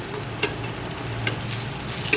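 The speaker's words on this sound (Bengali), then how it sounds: "পেঁয়াজ লঙ্কা ভাজছি" Onion and green chilli fry in a pan with a steady, fairly loud sizzle. Occasional sharp clicks of a stirring spoon break through, and no one speaks.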